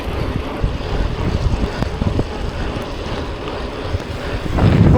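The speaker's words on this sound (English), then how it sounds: "Not only is it raining furiously, it is also very, very windy." Strong wind roars steadily across an exposed microphone at a gravel bike race in driving rain, a continuous loud buffeting rush that swells near the end, with no voices.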